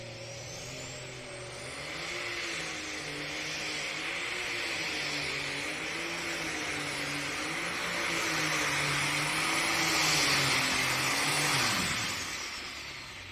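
A pulling tractor on the competition circuit roars through a full pull run at a national tractor pulling event, its engine droning loud and sustained, rising and wavering in pitch before dropping off sharply near the end.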